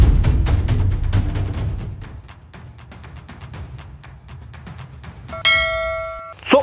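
A bright bell chime for a subscribe bell button rings out near the end, following a run of quick ticking clicks, then rings on clearly.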